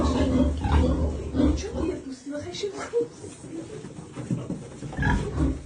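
Piglets grunt and squeal in a village pen, mixed with people talking close by over the animal noises.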